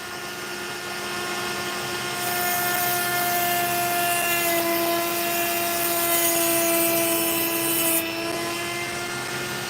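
Opal carved along its sand line with a small high-speed rotary carving tool, a loud, steady, close whine with a constant tone that holds for several seconds.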